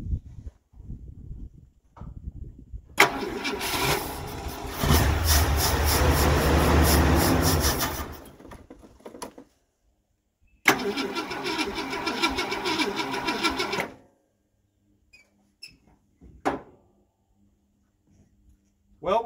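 A 1968 Ford Galaxie XL convertible cranks with a loud rough grinding burst, runs a few seconds, stops, then cranks and runs roughly again before cutting out, leaving quiet clicks and faint sounds.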